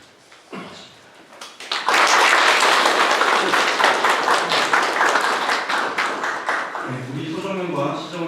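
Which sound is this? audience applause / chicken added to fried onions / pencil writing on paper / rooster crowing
audience applause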